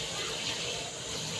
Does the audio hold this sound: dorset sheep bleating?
no